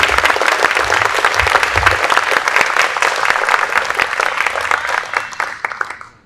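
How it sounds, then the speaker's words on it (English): Audience applause for a city aviation department team at a ceremony recognizing the Tuskegee Airmen in San Antonio, steady loud crowd clapping with distinct individual claps throughout, tapering off near the end. "If you could give them a big round of applause,"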